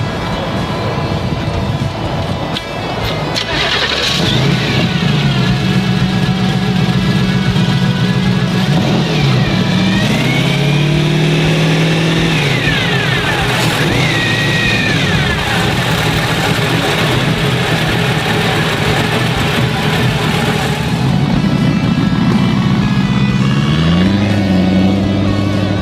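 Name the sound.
supercharged Corvette engine in car starting and revving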